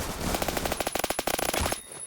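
Rapid, steady automatic fire from a suppressed M4A1 rifle in the shooter game Phantom Forces, a tight stream of muffled shots lasting under two seconds before cutting off.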